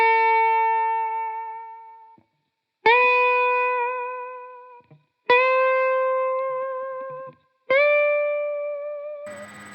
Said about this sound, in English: and then vibrato it at the tail end of the bend.